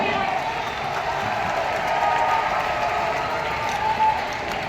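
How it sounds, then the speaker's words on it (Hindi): Sustained crowd applause at a Jharkhand sports day ceremony as a minister receives a memento, a loud steady roar of clapping with cheering and voices mixed in. "जोरदार तालियां हो।"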